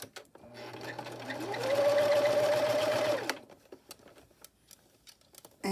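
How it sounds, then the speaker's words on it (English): A sewing machine stitches an 18-inch doll nightgown in one sustained run that starts and stops, its motor whine rising while the needle hums. Light clicks and handling noises follow once it stops. "I'm going to sew all the way around till I come back to where I started"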